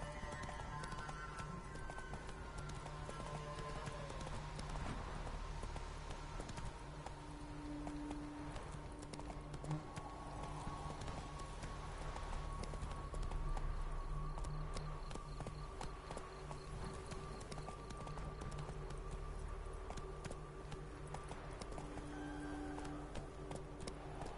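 Roach, a horse in The Witcher 3, gallops with a steady, rapid clip-clop of hooves that lasts throughout, backed by low game ambience and a faint whinny.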